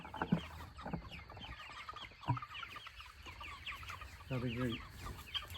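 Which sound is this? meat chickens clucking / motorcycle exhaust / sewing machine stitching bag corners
meat chickens clucking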